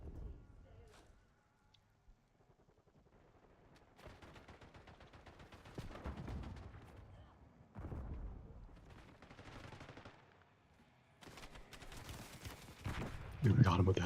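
A video game shooter delivers bursts of rapid gunfire in several clusters with quiet gaps between them, and a player talks over parts of the action.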